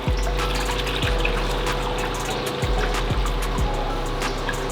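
Engine oil pours from a Porsche 911 Turbo into a drain pan, a loud, steady close gush of liquid over a low rumble, with no talk.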